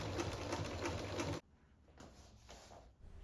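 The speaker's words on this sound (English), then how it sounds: "I then go ahead and sew these loops onto this one side of the flag" A sewing machine stitches loops onto the side of a cloth Knights Templar flag, running in a fast, even rattle for over a second before stopping abruptly, followed by quieter handling noises.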